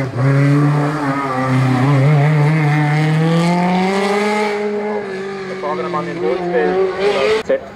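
A Citroën DS3 race car climbs a hill-climb course, its loud engine tone rising and falling with gear changes and holding a steady howl, with tyre noise. A commentator speaks over it.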